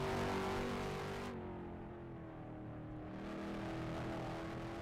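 A modified race car (ROX Mod) runs at Mt Lawn racetrack, its engine note droning steadily at a middle distance and swelling slightly as it heads down the front straight into turn 1.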